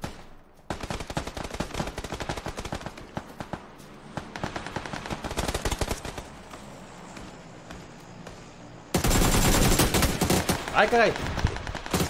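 Gunfire from an SLR marksman rifle in PUBG on Xbox One: repeated sharp, loud shots crack out in bursts, with a steadier volley near the end, and a man briefly exclaims over the shooting.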